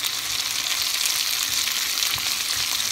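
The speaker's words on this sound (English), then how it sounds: "Now we're gonna add some garlic. And mix it up." Garlic frying in a pan, a continuous hissing sizzle with a few soft stirring scrapes, no voices.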